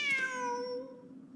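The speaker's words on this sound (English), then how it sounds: "Wait, there it is! The cat!" A single clear, close cat meow in the video game Genshin Impact, rising and then fading away, with nothing else around it.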